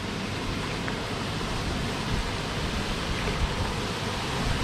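A waterfall on the Ain river near Serrières-sur-Ain rushes in the distance, a steady broadband roar of falling water with no breaks, moderately faint and unchanging throughout.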